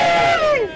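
A crowd at a junior doctors' strike rally in Cambridge shouts together in one loud, brief sustained roar that swells and then trails off.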